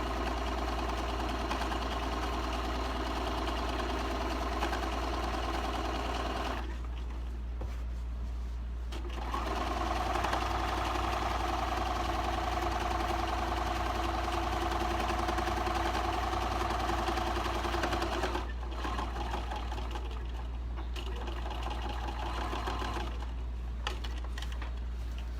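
A sewing machine runs steadily as it stitches a Seminole patchwork Christmas-fabric tea towel, its motor humming with a fast mechanical chatter, stopping briefly twice before starting again, close and continuous.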